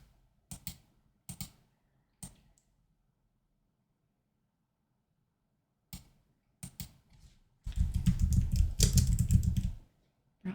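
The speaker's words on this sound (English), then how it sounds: "we'll type eggs" Short bursts of key clicks on a computer keyboard, a few isolated taps followed by a quick dense run of typing, quiet and close with silence between.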